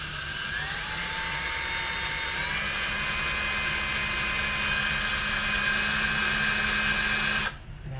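A power drill with a 25/64-inch bit whines steadily and loudly for several seconds, with a high pitch that rises as the bit bites, then cuts off abruptly near the end.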